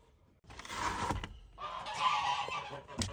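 Farm ducks let out of their pen on a small winter farm in Canada give a run of loud, raspy quacking calls, two bursts close by.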